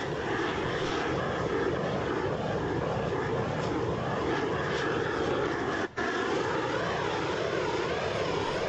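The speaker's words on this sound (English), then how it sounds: "After completing one end, move the torch back to the center and shrink toward the opposite end." A torch blasts continuously as it heats and shrinks a heat shrink sleeve onto a pipe, giving a loud, steady roaring hiss with one brief dropout near the end.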